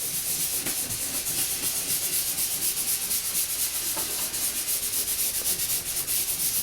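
Fingers blend paint across a canvas in a steady, soft, scratchy rubbing that continues without a break and is heard close up, with no talking.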